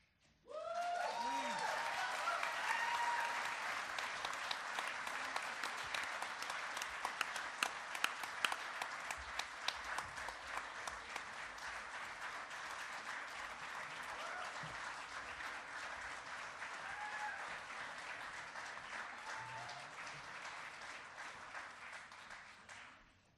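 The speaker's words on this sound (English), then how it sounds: "Can we have another round of applause for Steve Anderson, Mr. Drew Nelson," Sustained audience applause from a crowd at a speech event, loud and steady throughout with dense clapping that gradually thins slightly toward the end.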